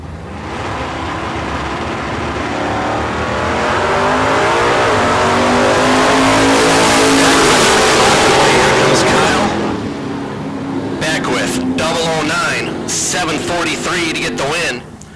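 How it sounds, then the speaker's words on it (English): Drag race cars, a red Chevrolet Malibu and a black-on-white Camaro, launch and race at a bracket race event. The engines give a loud roar that swells to a peak and then fades, with announcer commentary running over it. "Beckwith out of Rancho Cucamonga in that red Malibu"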